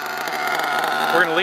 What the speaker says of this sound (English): You hear that high idle, that means the idle gap's too wide.